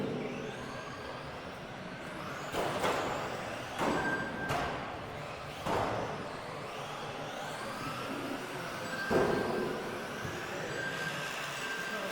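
Race cars in a club meeting final pass along a circuit, their engines rising and fading in several distinct swells over a steady background rumble, heard from trackside at moderate distance.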